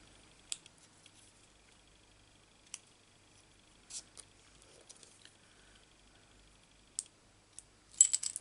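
Paper snips cutting pointy bits off paper for a stamped jar-of-flowers card, heard as a few sparse, close crisp snips spread over quiet, with a quicker cluster of snipping near the end.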